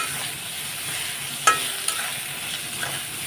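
Green chillies frying in fish oil are stirred in a pan, giving a steady broadband sizzle with a sharp utensil scrape or clink at about 1.5 seconds and smaller knocks after it.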